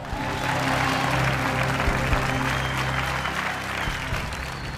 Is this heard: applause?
yes